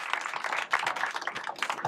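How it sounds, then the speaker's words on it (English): An audience at an evening reception for new leaders claps together, a dense, steady wash of many hands that stays even throughout with no voices on top. "Let's give them a round of applause."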